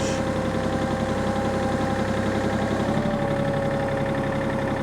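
A tractor engine runs steadily at idle for the whole stretch, a loud, close, even mechanical drone with a faint knocking pulse and a slight rise in pitch partway through.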